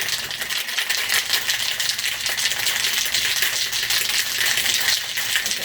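A cocktail shaker full of ice is shaken hard and steadily for several seconds, a loud, continuous bright rattle close up with no talking.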